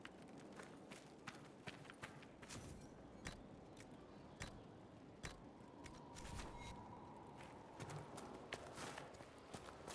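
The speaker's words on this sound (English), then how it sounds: "Is that a horse anymore or just a zebra?" Horse hooves clip-clop in the video game Dragon Age: Inquisition, a faint, irregular run of quick hoof beats with clicks, heard quietly throughout without speech.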